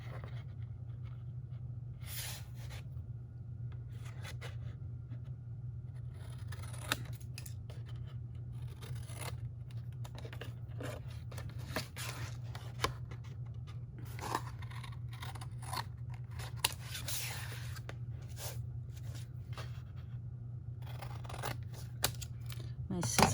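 Soft snipping and scraping of scissors cutting paper, repeated small crisp cuts over a low steady hum, fairly quiet and close.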